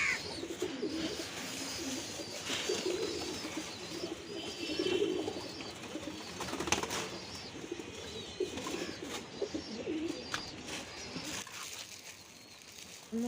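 Pigeons coo on a village rooftop with their cages nearby, a soft repeated burbling that goes on and off for about thirteen seconds. Now and then there are chirps and brief flaps of wings against light background noise.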